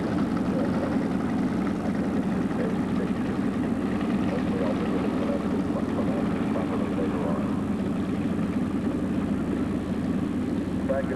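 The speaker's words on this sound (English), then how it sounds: "you'll see the Team Red aircraft taxiing out now" Propeller aircraft taxiing at the 2003 Scott AFB AirFest air show, a steady, continuous engine drone that holds level throughout, with faint voices in the background.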